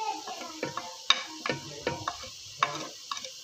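Chicken with a medium tomato, black pepper, salt and red chili powder frying in a pan, a soft steady sizzle broken by repeated scraping and clacking stirs, alone with no voices.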